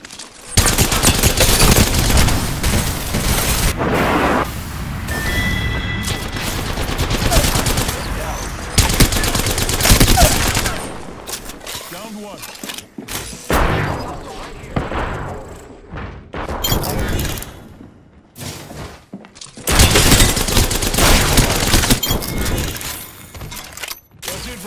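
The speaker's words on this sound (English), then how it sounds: "The enemies are shooting at me." Enemy gunfire in Apex Legends: loud, rapid automatic bursts and single shots crackling close by, broken by short quiet gaps and thuds, with bursts resuming in heavy volleys toward the end.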